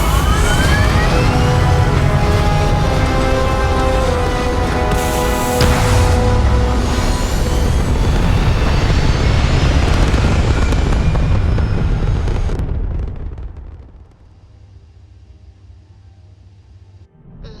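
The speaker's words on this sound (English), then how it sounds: "All thrusters firing." Spaceship thrusters firing in the video game Starfield, a loud, sustained roaring rush with layered tonal hum that holds steady for about twelve seconds, then cuts away to a quiet low rumble.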